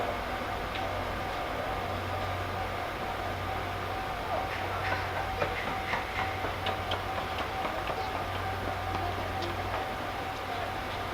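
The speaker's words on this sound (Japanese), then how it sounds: "4番線から特急スペーシア X8 号まもなく発車いたします。" A Tobu Spacia X limited express train sits at a Japanese station at night, its steady low rumble and hum continuing under faint clicks and rattles, with a distant announcement-like tone in the background.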